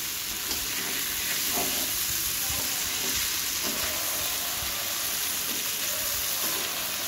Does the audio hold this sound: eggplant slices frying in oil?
yes